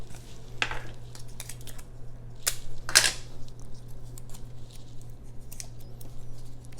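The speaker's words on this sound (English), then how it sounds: "I get a little piece of tape, stick it on the side there, wrap it around and fold it over." Packing tape is pulled and wrapped around a shipping box, giving a few sharp, brief tearing rips and crackles over a quiet room hum, close by with no talking.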